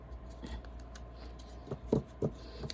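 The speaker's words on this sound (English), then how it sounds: "Cards, they shuffle well, as you can see." A deck of matte oracle cards shuffled by hand, giving a few quick soft riffling snaps and papery rubs, close and quiet with no talking.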